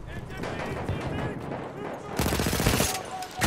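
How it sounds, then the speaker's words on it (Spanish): Gunfire in the video game Battlefield 1 crackles in dense bursts, with a sharper, louder volley near the end, under a player's voice. "¿Quién osa disparar?"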